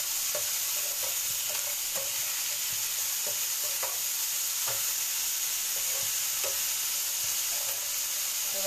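Salted fish frying in a pan is stirred with regular scraping strokes, the spoon's taps and scrapes recurring roughly every half second over a continuous oily hiss.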